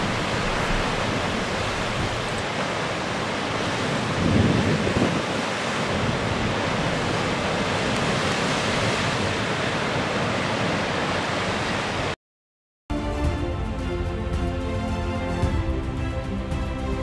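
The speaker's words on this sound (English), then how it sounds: "the waves just crash in there, and they wheel back out again" Sea waves crash into sea caves on a headland in North West Ireland, a constant heavy roar of surf and spray with wind buffeting the microphone. A brief cut near the end is followed by more churning water.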